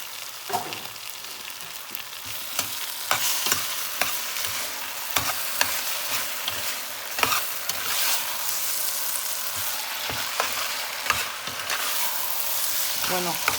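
Chopped onion and chili peppers sizzle and fry in a pan for rajas con queso, a steady close crackle with occasional stirring scrapes and clinks.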